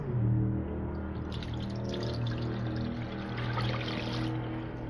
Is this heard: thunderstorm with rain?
no